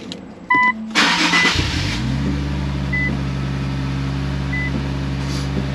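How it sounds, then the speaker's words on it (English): An Infiniti Q50 starts up, with a couple of dash chimes, a short whirring crank and the engine catching, then a smooth, steady idle hums close by for the rest of the time. "Now I'll start it."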